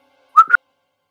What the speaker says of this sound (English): she kind of whistles a little.